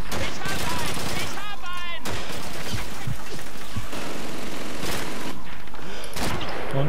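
Bursts of rapid gunfire crackle across the stretch in the video game Call of Duty 2, with sharp single shots and fusillades punctuating a busy game soundscape.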